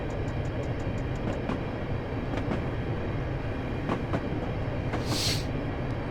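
A London Underground train runs steadily close by, its wheels clicking rhythmically over rail joints with a brief high squeal near the end; no one talks.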